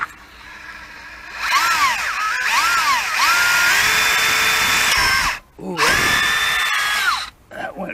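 A fresh-battery cordless drill runs in bursts while working on a Chevy Astro van, whining loudly up and down in speed with brief pauses between runs, close to the listener.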